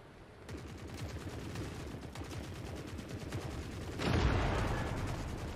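Tanks and soldiers battling with gunfire in The Forever Winter video game: steady rapid machine-gun rattle in the distance, swelling into a heavier, louder burst of fire near the end.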